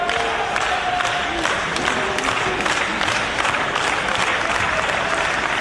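A wrestling crowd cheers and applauds for Roderick Strong during a match against Matt Hardy, a dense, continuous roar of clapping and shouting from a large audience with no break.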